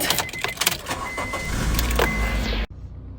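A car in Japan starts to pull away into heavy traffic, its engine rising to a steady low rumble with a few clicks and rattles before cutting off abruptly.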